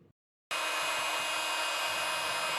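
A hair dryer or heat gun switches on abruptly after a brief silence and blows with a loud, steady whoosh close by, warming a decal on motorcycle luggage.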